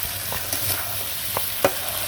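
Fish curry with green chilies being stirred and sautéed in a pan over a clay stove, soft steady sizzle with a few brief scraping stirs, one sharper clack near the end.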